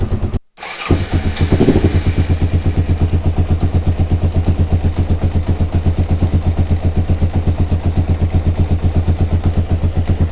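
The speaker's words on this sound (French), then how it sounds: "Donc là je vais la laisser tourner un petit peu, comme ça quand elle sera bien chaude je vais pouvoir faire la synchro de carbu" Suzuki SV motorcycle under restoration, carbureted engine catching after a brief start and then running steadily to warm up, a loud close pulsing idle with an even rapid beat for about nine seconds.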